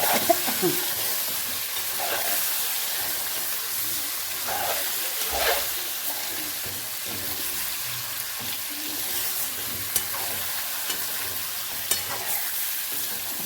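Chilapi (tilapia) fish frying in a pan and being stirred, a steady sizzle beneath scattered soft scrapes and clinks, with faint water noise in the background.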